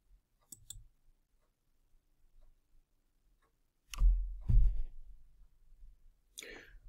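A few sharp computer mouse clicks, close and distinct, with quiet gaps between and a soft voice or breath heard briefly around them.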